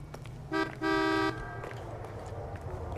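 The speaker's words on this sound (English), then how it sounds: "Why are you honking?" A car horn honks in the LA Noire video game, first a short toot and then a longer sustained blast, loud and close over a steady engine and street rumble.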